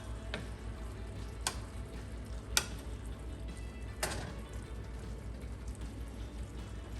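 Onions cooking in a pan for stuffed green peppers give off a steady, soft frying crackle with a few sharper pops, continuous and close with no talk.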